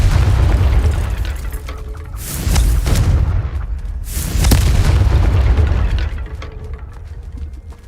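Confringo explosion spell cast in the Hogwarts Legacy video game, producing two loud booming blasts a couple of seconds apart over a heavy low rumble, with no talking.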